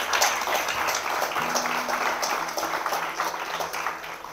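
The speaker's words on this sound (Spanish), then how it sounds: "Démosle un aplauso a la palabra esta noche," Church congregation applauding during an evening service, a steady wash of clapping that holds for several seconds at moderate level, with faint voices mixed underneath.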